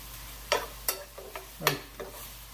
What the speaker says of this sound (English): I don't know why I'm using a spoon for this.